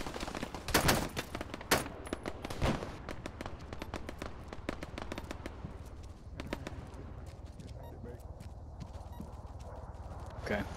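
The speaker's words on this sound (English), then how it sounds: "Still taking fire from the church" Gunfire in a military video game pops in rapid irregular bursts and single cracks, loudest early on then thinning into scattered distant shots, with faint talk mixed underneath.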